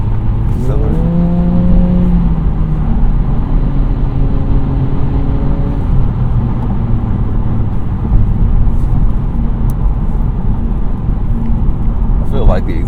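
An Acura Integra with a CVT accelerates from inside the cabin, its engine and exhaust droning as a loud steady hum with rising tones that stay smooth and gearless, under road noise throughout.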